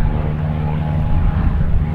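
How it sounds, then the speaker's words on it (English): A light aircraft or glider passes overhead above a hilltop campsite in the Scottish Highlands, a steady, droning engine hum holding at a moderate level throughout, without speech. "It's one of the planes and gliders again going past."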